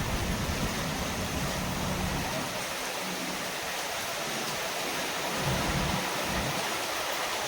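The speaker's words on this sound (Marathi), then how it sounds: "आता आवाज बघा, एवढं जोरात जोरात गरजतंय आभाळ. डेंजर आवाज येत आहे" Heavy monsoon rain pours steadily while deep thunder rumbles low underneath, swelling near the end.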